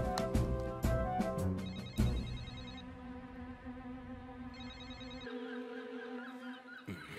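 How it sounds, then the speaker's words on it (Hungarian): A telephone rings unanswered in a Fireman Sam cartoon, a repeated electronic ring pattern sounding over music and background tones, moderately loud throughout. "Miért nem veszi fel ma senki a telefonját?"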